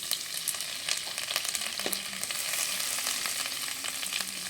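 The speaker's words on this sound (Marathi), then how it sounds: "त्याच्याबरोबरच थोडंसं कोथिंबीर थोडंसं हे परतवून घेते" Horse gram usal with coriander sizzles and fries in a pan on a wood-fired chulha, with steady crackling and occasional stirring scrapes and clinks, close and moderately quiet.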